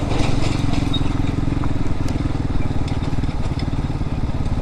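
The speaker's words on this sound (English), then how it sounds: "the idles are real high now" A Hawk-X 250 motorcycle engine idling high, a steady, loud, buzzing putter with a fast pulsing beat that holds without letup.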